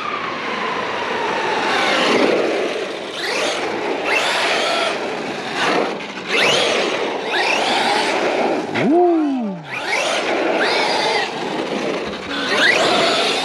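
A Traxxas XRT RC truck with a Castle MMx8s system is driven hard, its electric motor whining in surging bursts. Tires scuff and squeal, and a sharp pitch sweep marks a jump or spin, loud and close throughout.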